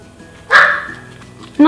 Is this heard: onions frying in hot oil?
no